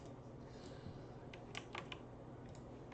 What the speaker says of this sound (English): Oh, Ripper, the keyboard is juiced.